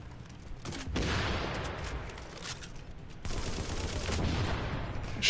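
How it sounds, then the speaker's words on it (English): Rapid gunfire and grenade blasts in The Division video game, dense overlapping bursts of shots with sharp loud onsets near one and three seconds, continuing as a heavy barrage. "Shooting fucking grenades point blank in my face."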